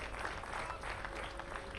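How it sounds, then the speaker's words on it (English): A baseball crowd applauds a departing pitcher, a steady wash of clapping at moderate distance that holds evenly without pause, with no voices standing out. "He gets a nice hand from the crowd as he leaves."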